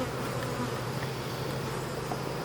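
Honey bees buzz steadily during a hive inspection with the frames opened, a dense close humming drone that stays continuous throughout with no talking.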